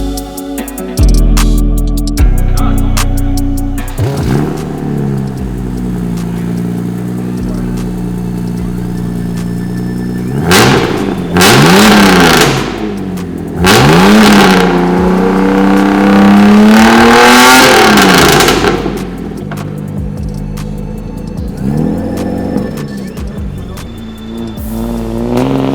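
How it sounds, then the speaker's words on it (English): A car engine revs repeatedly through a custom-fabricated exhaust fitted with a resonator, rising and falling in loud, close bursts over a steady idle rumble, with several long sustained pulls. "That resonator really cleaned up the exhaust sound"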